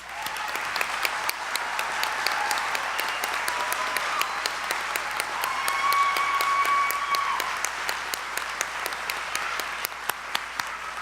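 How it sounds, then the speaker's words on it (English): Graduates and guests at a college spring commencement ceremony applaud the degree candidates, a steady, moderately distant wash of clapping with some sharper individual claps standing out, lasting the whole stretch. "let's give our candidates a round of applause"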